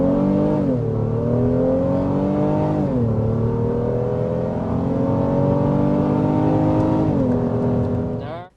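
A V6 engine in a 2023 SUV, either a Honda Pilot Elite or a Toyota Highlander Platinum, accelerates with a raspy note. The revs climb steadily in several rising surges, loud and close, with no talk over it.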